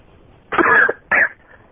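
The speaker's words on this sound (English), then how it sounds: "I heard you coughing there." Two harsh coughs close up, a longer one followed by a shorter one, with quiet in between and no talking.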